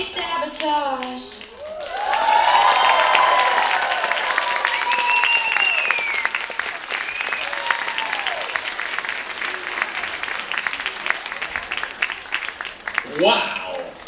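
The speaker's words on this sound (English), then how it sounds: "See, you deserve some applause" Audience at a special needs talent showcase breaks into sustained applause and clapping that rises, holds and fades, with a voice speaking over it.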